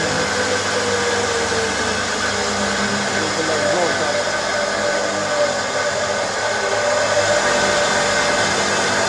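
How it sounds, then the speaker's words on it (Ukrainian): A vacuum cleaner runs continuously nearby, its motor giving a loud, steady whining drone with no pauses. "Пилососом."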